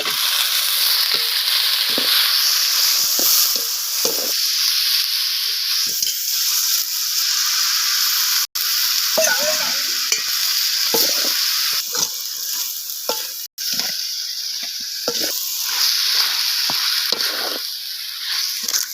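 Chicken pieces sizzle and fry in a pan for biryani, with a steady loud hiss and occasional stirring scrapes running throughout, briefly cut by two short gaps.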